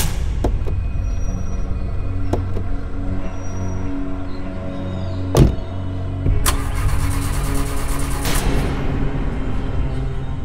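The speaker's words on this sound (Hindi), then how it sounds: "क्या हुआ, गाड़ी स्टार्ट क्यों नहीं हो रही?" A car engine with a suspected bad battery cranks and labors without catching, a steady churning drone broken by a sharp knock midway and a burst of harsher noise later, close and loud with no talk.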